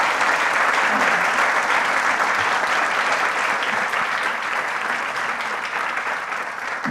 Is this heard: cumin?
no